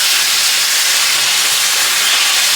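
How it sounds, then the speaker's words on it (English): Chuck roast burgers sizzle loudly on a hot cooking surface as they are flipped. The bright hiss is dense and holds steady throughout. "Now we're gonna come back over and flip them."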